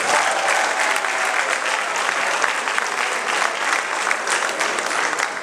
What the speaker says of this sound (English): You guys should clap for yourselves.